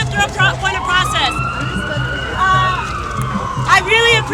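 Wailing police sirens sweep up and down amid a crowded Occupy Denver street protest, rising over a low rhythmic thump and overlapping voices of people talking and shouting nearby.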